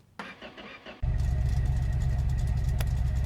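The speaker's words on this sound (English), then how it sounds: "I think it's going to be noisy with a very leaky exhaust" A racecar engine with a very leaky exhaust turns over and roars to life, then idles loudly with a rough, blatting exhaust rumble that stays steady and close.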